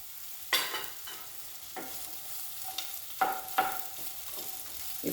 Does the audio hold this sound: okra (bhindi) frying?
yes